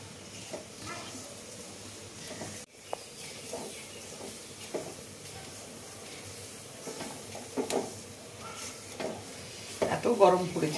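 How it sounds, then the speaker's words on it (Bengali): Semolina and sugar are stirred continuously in a pan, with soft scraping strokes over a low sizzle and a voice talking faintly underneath. "এবার আমি অনবরত নাড়তে থাকবো, না হলে চিনিটা লেগে গেলে সুজিটা পুড়ে যাবে।"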